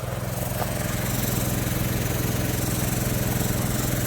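An air compressor runs steadily while inflating a tire to seat its bead, a constant low engine-like drone with rhythmic pulsing, close and loud throughout with no talk.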